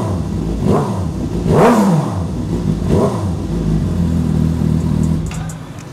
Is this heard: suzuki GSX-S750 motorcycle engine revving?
yes